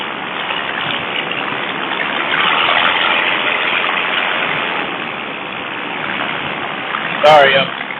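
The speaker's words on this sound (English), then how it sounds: "Something feels weird with my motor. It's like, almost feels like it's missing." A paramotor engine, running unevenly and misfiring, holds a steady, breathy roar with slight swells in level, mixed with rushing air and a brief sharp noise near the end.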